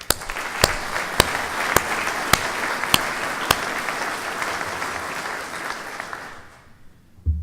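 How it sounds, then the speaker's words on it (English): An audience at an Army Corps of Engineers Mississippi Valley Division change of command ceremony gives Deborah a round of applause, steady and dense with a few sharp loud claps, fading to silence after about six seconds. "So just another round of applause for Deborah"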